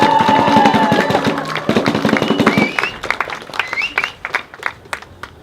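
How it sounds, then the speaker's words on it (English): A crowd claps to welcome speaker Alexie Glass-Kantor at an Occupy SCA gathering. The applause is loud and dense at first, then thins into scattered individual claps as it dies away. "Could we please have a fantastic round of applause for Alexie?"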